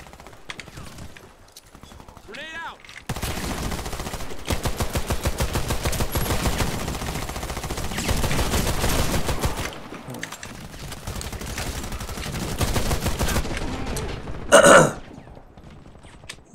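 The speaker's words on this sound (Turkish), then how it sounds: "Tüfeği iyice bir test ettik." HCAR automatic rifle firing in the shooter game Warface, long sustained bursts of rapid shots that stop briefly and resume, loud and close, with a short sharp mechanical sound near the end.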